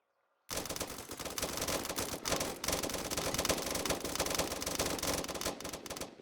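Sustained automatic gunfire from a machine gun during military training, a loud continuous burst lasting several seconds close by, with no talking.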